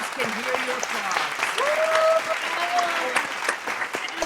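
Audience applause coming through a video call after a one-act play, steady dense clapping throughout, with faint voices and a few thin tonal squeaks mixed in.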